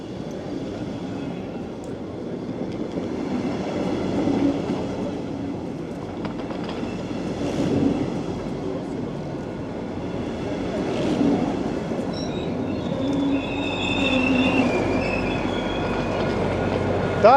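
An RE 6 regional train with double-deck coaches and a diesel locomotive pulls into Hamburg-Altona station, a steady rolling rumble of wagons with squealing wheels and brake screeches rising toward the end, heard from the platform.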